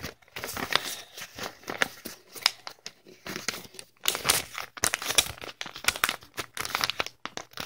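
Sheets of paper being folded in half and then in half again during a craft project, with close, irregular crinkling and crisp creasing rustles in short bursts, no talking.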